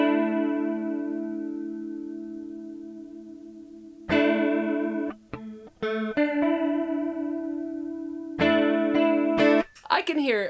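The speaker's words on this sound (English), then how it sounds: "Let's start from the CE-2." Electric guitar through a Boss CE-2 chorus pedal, long sustained chords with a shimmering, wavering chorus swirl, then a few shorter strums and rings, played alone and up close.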